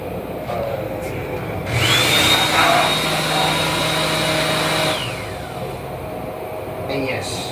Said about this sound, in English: vacuum toilets like this